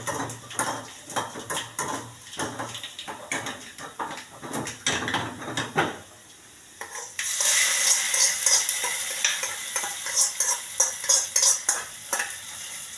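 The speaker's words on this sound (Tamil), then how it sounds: "நல்ல வெங்காயம் நல்லா பொன்னிறமாக வரணும்." Onions frying in a pan for a Nellai-style kootanchoru, stirred with a utensil in repeated clanking, scraping strokes, then a louder, brighter sizzle takes over in the second half, close and without speech.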